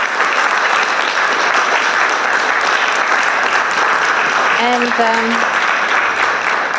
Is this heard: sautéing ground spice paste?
no